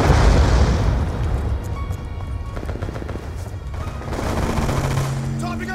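Hellstorm missile strikes and gunfire in the video game Black Ops 2, a dense barrage of booming blasts and rattling shots that swells loud at the start, eases, then builds again toward the end, with game voice lines mixed in.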